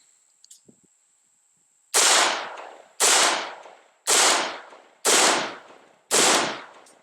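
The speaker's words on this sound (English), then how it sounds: "Put a few shots in there, see how it does." Five loud 7.62 rifle shots from a 16-inch barrel strike an AR500 steel Level III armor plate at 25 meters, evenly spaced about a second apart, each a sharp crack with a ringing decay.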